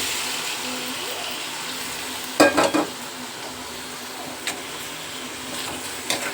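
Chicken pieces are added to a frying pan of capsicum and stirred, bringing a steady sizzle with a burst of clattering scrapes and a few later knocks, close by.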